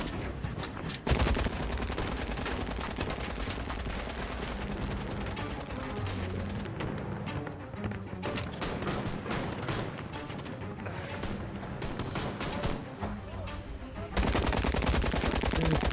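Rapid game gunfire in Syberia: The World Before, sustained bursts of shots throughout at steady loudness, with a faint voice underneath.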